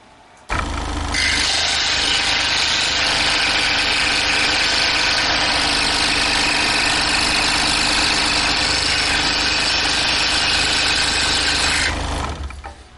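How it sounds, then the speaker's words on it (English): Scroll saw cross-cutting a piece of cedar wood: a steady, loud buzzing hum with a rasping blade texture that starts abruptly, runs evenly for about eleven seconds without talk, then stops. "if you are going to cut out some delicate cuts over at the scroll saw, so please be aware of that. But I'll once again just do a simple cross cut"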